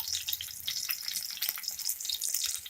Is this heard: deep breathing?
no